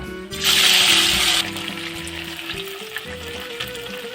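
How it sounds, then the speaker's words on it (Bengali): Mustard-marinated bata fish dropped into hot oil, a sudden loud burst of sizzling that settles into steady frying, with a voice speaking over it. "এবার আসলাম চুলোতে তেলটা গরম হয়েছে এখন আমি মাখা মাছগুলো দিয়ে নেব"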